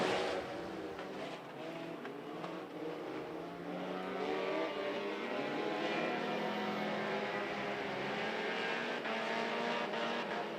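Race cars roar together at Monarch Motor Speedway after the green flag, a dense, continuous engine drone that swells slightly as the field charges into the first turn, with no voices.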